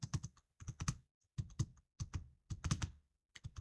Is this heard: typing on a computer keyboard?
yes